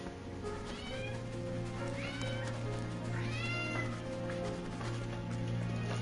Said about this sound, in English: That cat, Rachel.